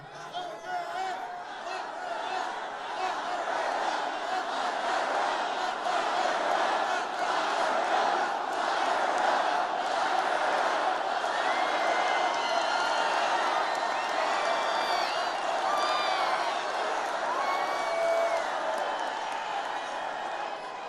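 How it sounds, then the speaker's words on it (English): A large crowd at an outdoor political rally in Phoenix, Arizona roars and cheers without pause, with scattered whoops and shouts rising over a dense, steady wall of voices. "You can actually tell a crowd by the sound."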